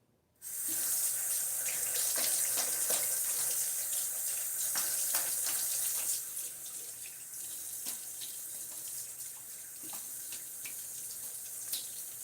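Tap water runs steadily into a sink for a post-shave rinse, starting abruptly and gushing loudly, then easing to a lower, continuous flow with small splashes.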